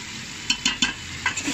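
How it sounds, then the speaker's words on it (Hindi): Garlic ginger paste and nihari masala fry in a pot for beef nihari, a soft sizzle broken by several quick spoon stirs and scrapes against the pan. "अब मैं इसमें डालूंगी लहसुन अदरक का पेस्ट। और निहारी मसाला इसको अच्छी तरह से हम भूनेंगे।"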